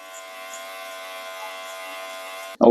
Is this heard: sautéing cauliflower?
no